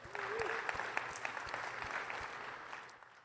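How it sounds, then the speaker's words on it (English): An audience at a tech talk breaks into applause, a dense steady clapping that fills the room and fades slightly toward the end. "Give him a round of applause"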